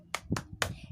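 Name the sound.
rhythmic clapping chant in a classroom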